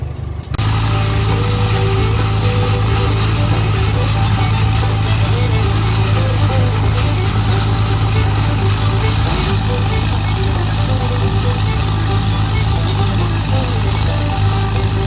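A Farmall M tractor engine drones steadily, running in high first gear at a constant pitch throughout, loud and close, with no breaks or revving.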